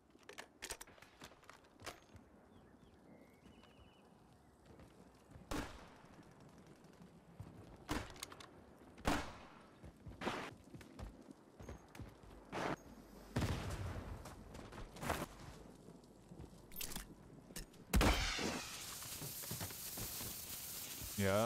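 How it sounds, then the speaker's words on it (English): Rapid bursts of video game gunfire crackle in irregular sharp cracks and short volleys, fairly faint, with heavier firing near the end. "Shots."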